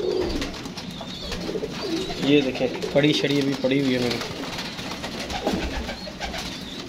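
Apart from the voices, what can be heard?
pigeon cooing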